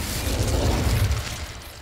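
A fire spell called Incendio is cast in Hogwarts Legacy, giving a sustained roaring, crackling burst of flame with a deep rumbling body that holds steady and then tapers off slightly toward the end, with no voices.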